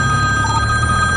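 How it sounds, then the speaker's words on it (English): A telephone rings during a police roadside encounter, a steady electronic ring with a sustained tonal buzz over low background rumble, loud and close, with no talking. "I'm getting a phone call."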